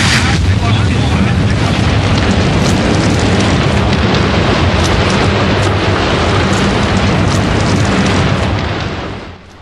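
A full-scale explosion test on a mock-up oil rig module produces a loud, sustained broadband roar and rumble for nearly ten seconds before it tails off abruptly at the end.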